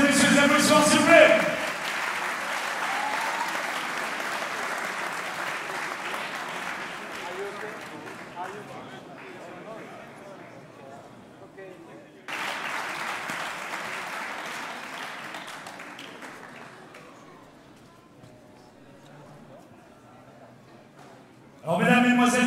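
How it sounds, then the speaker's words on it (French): A boxing match crowd applauds after a knockout ruling, a dense clapping roar that swells, fades, surges again midway and returns at the end. An announcer's voice is heard over it. "applaudissements, s'il vous plaît."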